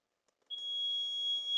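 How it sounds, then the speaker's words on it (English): A shrill, high electronic door alarm tone starts abruptly and holds steady, piercing and continuous against otherwise quiet surroundings. "I am fairly certain that that door alarm got caught up on my mic."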